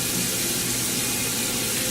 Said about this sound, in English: Gonna grab you a towel, wet it in some hot water,